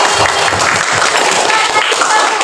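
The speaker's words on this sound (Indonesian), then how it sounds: "Kita beri tepuk tangan dulu untuk Putri." A classroom of students claps for a classmate. The applause is steady and dense, with some voices mixed in.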